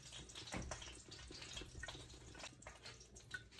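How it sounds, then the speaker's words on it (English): Water running and dripping from a kitchen pipe, a faint, irregular patter of drips and trickles close by, heard alone at low volume. "the pipe was dripping"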